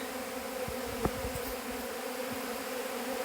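Steady, low droning hum of honey bees buzzing at an apiary throughout, close and continuous, with a faint knock partway through, as they are fed sugar water.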